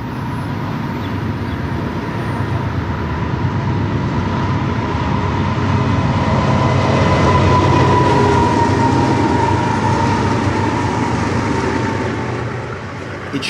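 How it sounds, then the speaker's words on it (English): BNSF freight trains roll past at Coon Creek in Minneapolis, led by a C44-9W diesel, with a steady, loud rumble and wheel noise that swells toward the middle and holds for the whole passage. "we'll be treated to a Z train zipping by and North Star heading west"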